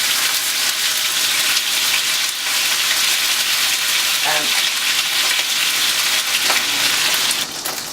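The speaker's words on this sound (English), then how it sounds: "we're going to get the lamb shoulder, and we're going to sear it off on all sides and get it nicely caramelized" Lamb shoulder searing in a hot pan for Uzbek plov, a loud, dense, continuous sizzle close up with occasional faint scraping.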